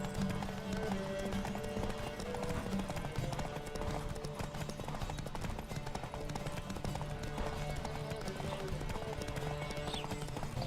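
Horse hooves gallop in a fast, steady clip-clop rhythm during a race in The Witcher 3 video game, loud and continuous over game music and ambient noise throughout.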